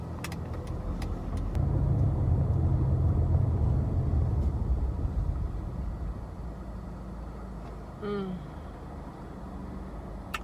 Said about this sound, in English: This traffic is a beast!